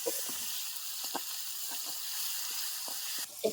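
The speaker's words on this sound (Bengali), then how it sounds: "রসুন বাটা, চার মগজ বাটা। এই মশলাগুলো দিয়ে সুন্দর করে কষিয়ে নেব।" Garlic paste and ground melon-seed paste sauté in hot oil for a pulao and dal recipe, a steady close sizzle with small crackles and light scraping taps throughout.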